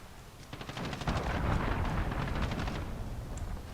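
Allied cruise missile strike in Call of Duty Modern Warfare: a dense, rumbling roar of blasts and crackling gunfire sustained for several seconds, loud and broadband with rapid rattling bursts layered on top.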